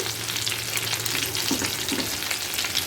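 Small jatka hilsa fish fry in oil in a pan, giving a continuous close crackling sizzle with a couple of soft stirring scrapes partway through.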